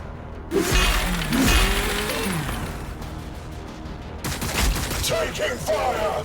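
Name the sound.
gunfire in Warhammer 40,000 Battlesector video game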